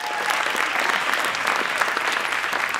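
An audience at a summit applauds for Alex and Harry in Ghana, a dense, steady wash of many hands clapping close by without pause, with no speech over it.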